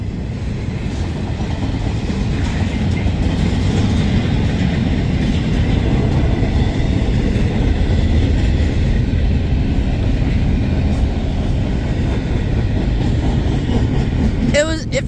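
A train rolls past close by with a steady, loud rumble and rattle that fills the whole stretch, and excited voices talk over it throughout.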